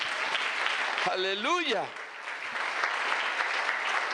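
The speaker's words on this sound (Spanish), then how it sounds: "¿Cuántos le damos un aplauso al Señor?" Church congregation clapping for the Lord during a Spanish-language sermon, a steady crowd applause under a loud sung exclamation from the preacher that rises and falls, then continues as the clapping carries on.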